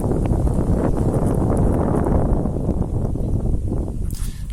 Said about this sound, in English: Now, it's a real windy day out.